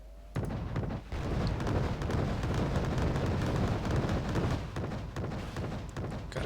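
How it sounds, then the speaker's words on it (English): Airstrike explosions in Wargame Red Dragon, a sudden heavy blast followed by a rumbling barrage of booms and crackling impacts that rolls on for several seconds before easing slightly. "Danger close airstrike."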